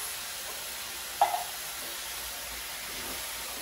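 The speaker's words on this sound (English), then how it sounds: "we're just gonna saute this in the pan, and also some tomato sauce" Tomato sauce sautéing in a pan for vegan street taco filling gives a faint, steady sizzling hiss, with one brief clack of a utensil near the start.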